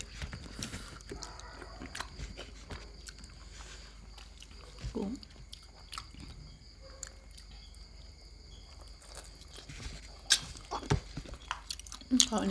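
Someone chews and eats fresh oyster meat in a spicy shrimp-and-oyster dish, with soft wet chewing sounds spread through the clip, close and fairly quiet, plus a few sharper bites.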